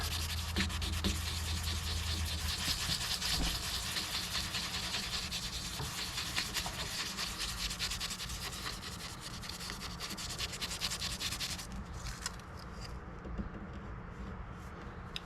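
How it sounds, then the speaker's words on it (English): Steady, continuous rasping of high-grit sandpaper rubbed by hand on an Ibanez acoustic guitar, close and even, with a brief change in texture near the end. "I'm just gonna use a high grit sandpaper right now."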